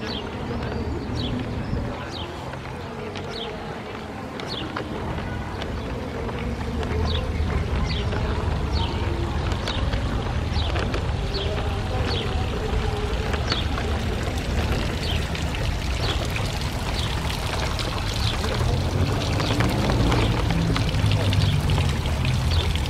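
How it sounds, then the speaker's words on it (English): Water runs steadily from public fountains in Rome, a constant splashing rush with footsteps and people talking nearby in a busy outdoor square. "See the fountains here?"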